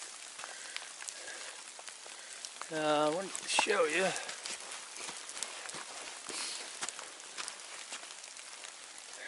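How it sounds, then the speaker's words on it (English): Rain falling steadily on the Appalachian Trail during a thru-hike, a soft continuous patter of drops with a person talking nearby over it and a brief whistling sound in the middle. "still raining"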